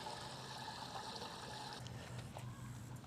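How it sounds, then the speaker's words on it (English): Water from a hose pouring into a lawn sprayer tank, a continuous quiet splashing trickle with steady rushing texture and no speech. "We're going to fill this up to about the halfway mark and then introduce our product."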